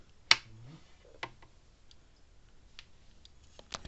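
A Zareba SP10B solar electric fence charger running on about 6.5 volts gives off sharp, faint ticks spaced roughly a second apart against a quiet background, with no talking.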